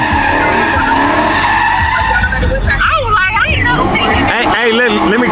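A car skidding and sliding as it spins out, then breaking down mid-slide, with loud tire squeal sweeping up and down over engine noise and nearby crowd chatter throughout.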